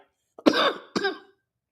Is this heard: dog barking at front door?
no